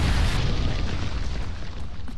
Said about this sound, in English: a great asteroid hit the Earth and created a huge explosion.